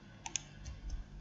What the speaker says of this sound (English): You can just press shift in your keyboard and shift